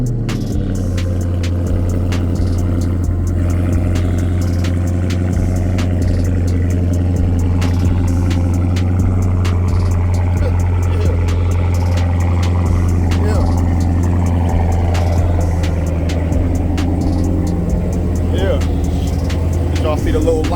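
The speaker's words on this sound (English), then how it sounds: "I'm gonna do a cold start for Big C right quick." Chrysler 300C Last Call idling after a cold start, a steady low engine drone with clattery texture held throughout, close and loud, with someone talking over it.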